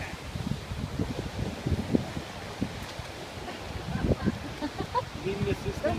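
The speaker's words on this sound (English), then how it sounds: "wind is not working in your favor, huh?" Wind blows outdoors in gusty, low rumbling buffets against the microphone. The gusts swell and ease throughout, and people's voices talk faintly beneath them.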